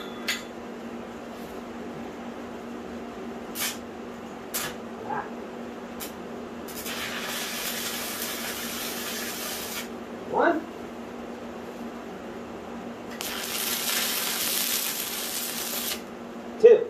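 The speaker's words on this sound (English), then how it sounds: "So I'm going to go ahead and throw two quick tacks on here." Two quick tack welds on a steel tube, each a crackling, hissing arc burst lasting about three seconds, separated by a quiet gap with a few small clicks and knocks around them.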